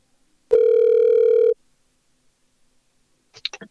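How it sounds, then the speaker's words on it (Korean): A telephone line connects for a news-show phone interview: one steady mid-pitched tone holds for about a second, silence follows, then a few quick clicks as the call picks up. "전화로 연결해서 이야기를 들어보도록 하겠습니다"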